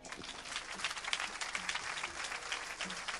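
A church congregation claps and acclaims the Lord together at a worship service, a fairly faint but continuous patter of many hands with scattered cheering voices rising and falling over a few seconds.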